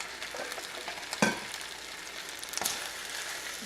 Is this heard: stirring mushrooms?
yes